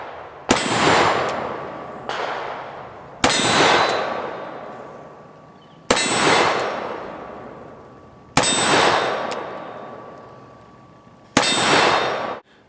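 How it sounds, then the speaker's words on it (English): A Cimarron Model P revolver in .44 Special, fired one-handed in duelist style, sends five widely spaced shots that each ring a steel target with a loud metallic clang and long fading ring, with no talking. "shooting with one hand is more fun. So let's see if we can make Evil Roy jump duelist style"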